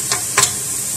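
Onions and cumin seeds frying in a pan for a shimla mirch keema dish, giving a steady close sizzle with two brief stirring scrapes early on.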